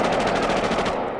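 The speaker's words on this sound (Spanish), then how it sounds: "Una ráfaga de disparos rápidos que duró aproximadamente 1 minuto irrumpió la tranquilidad del vecindario Van Ness" Rapid burst of gunfire in the Van Ness neighborhood, captured in a news recording: a loud, dense string of shots fired in quick succession that runs unbroken for about a second.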